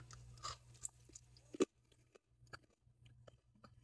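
Salad of shrimp, ahi tuna, corn cut off the cob, lettuce and onions being chewed up close, with a few crisp crunchy bites and one sharp loud crunch midway, then quieter mouth sounds.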